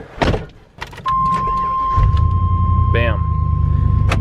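An old Chevrolet Suburban engine with a slight tapping cranks and fires up, then settles into a loud, close, steady idle rumble, after a chime and some handling noises, with a person talking briefly.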